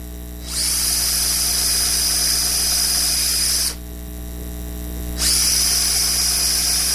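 A power drill deepening a hole in a wooden butt joint, two sustained high whining runs of several seconds each with a brief pause between, loud and close over a low steady hum.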